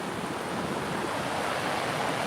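Ocean surf breaking on a Florida beach at Tables Beach, Patrick Space Force Base, a steady close wash of foaming water mixed with wind rumble on the microphone, with no voices.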